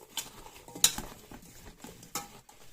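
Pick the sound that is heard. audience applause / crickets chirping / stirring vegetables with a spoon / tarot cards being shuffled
stirring vegetables with a spoon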